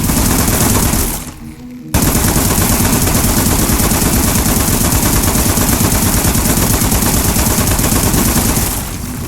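Gunfire in the video game Aperture Desk Job: loud, rapid automatic shots in a dense continuous stream, cut off for a moment early on, then hammering on without pause.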